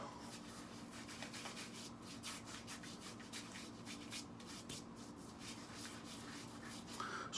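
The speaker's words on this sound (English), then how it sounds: "Just rub it on the face as a little pre-shave" Pre-shave product rubbed onto a face by hand before a straight razor shave, making a soft continuous rubbing and brushing, faint and close, with no voices.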